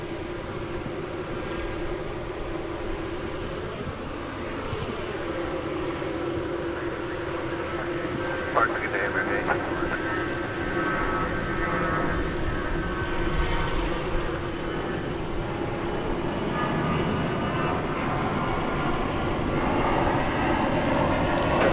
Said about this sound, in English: So where's this plane going? Is it going to go over to the east side of the airport, perhaps, for takeoff?